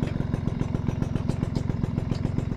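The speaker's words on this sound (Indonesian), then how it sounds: "Knalpot garing, mesin masih enak ini guys." A Suzuki RC100 motorcycle with a dry, raspy exhaust idles close by, its engine pulsing in a fast, steady, even rhythm with a rattly edge and no talk over it.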